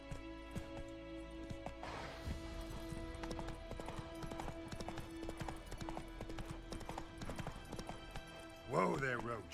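Roach the horse trots in the video game Witcher 3, a steady run of rhythmic hoof clip-clops on a road, with a short neigh near the end, under someone talking.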